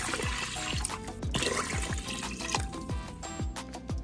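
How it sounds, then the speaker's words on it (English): Three cups of water poured into a crock pot already holding white rice: a continuous splashing pour broken by repeated plopping drips, close and clear with no speech. "we're gonna go ahead and drop 3 cups of water."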